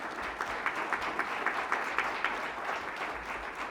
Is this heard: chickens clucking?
no